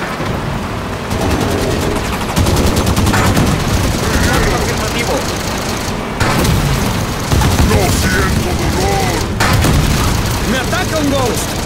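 Loud, dense gunfire in Halo 5: Guardians, with bursts of rapid automatic shots, heavy booms and brief pauses between volleys, mixed with energy-weapon effects over a constant rumble of combat.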